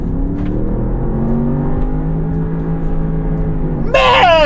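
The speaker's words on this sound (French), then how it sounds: "Alors là, tu vois, on va commencer à accélérer depuis ici." A 4x4 fitted with a swapped BMW M5 Competition engine drones steadily at close range, its rising harmonic tone building under the pull, then a sharp louder burst near the end as it hits the rev limiter.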